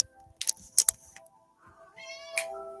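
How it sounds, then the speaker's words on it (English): Cats shut in a room meow while trying to get out, a few close sharp clicks followed by a drawn-out plaintive meow, with a faint steady hum underneath. "I got cats in here that's trying to get out, but they can't"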